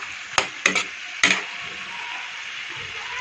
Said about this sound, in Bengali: এখানে দিয়ে দেবো এখন টমেটো কুচি। নাড়াচাড়া করে